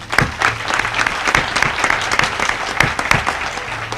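A crowd at a Purple Light Nights lighting ceremony applauds municipal officials and police chiefs, steady dense clapping sustained throughout with a faint hum beneath.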